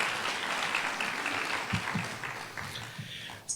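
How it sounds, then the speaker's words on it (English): Audience applause at a college honors day ceremony, a steady wash of clapping across the whole stretch that thins slightly toward the end, with no one speaking over it. "would you give them a round of applause, please?"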